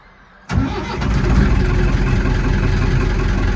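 A vehicle engine cranks and catches at the turn of an ignition key in a cab, following an oil seal failure, then settles into a loud, steady rumbling idle close by.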